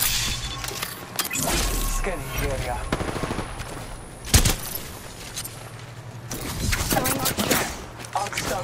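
Gunfire in the Apex Legends video game, with bursts of automatic shots and a sharp loud impact partway through, mixed with other game effects and a voice talking.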